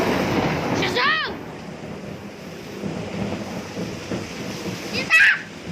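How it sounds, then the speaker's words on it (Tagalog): Rain falling with floodwater splashing, a steady broadband wash mixed with wind buffeting the microphone, broken by a couple of sharp, brief splashy bursts; voices are faintly present. "Ito, umuulan. Buti na nyo, baha na dyan, oh."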